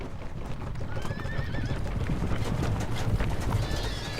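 A horse neighs in a long, wavering whinny across the middle of the clip, with a second call near the end, over a constant close patter of hooves.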